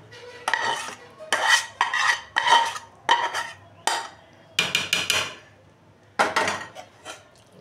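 Mutton mince is stirred into khichuri in a metal pot with a spoon, producing loud, separate scraping and clanking strokes in bursts with short pauses, close up and with no talking.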